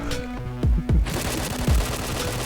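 Rapid automatic gunfire in the online shooter Point Blank, bursts of sharp cracks over a low rumbling game backdrop, with a couple of heavier booming shots standing out, loud and close, no talking.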